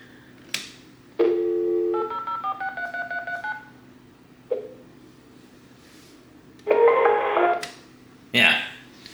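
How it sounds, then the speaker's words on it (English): A landline phone dials a number by itself in bursts of DTMF tones, a quick run of clear beeps then further tone bursts, with brief talk between them. "dial back that number"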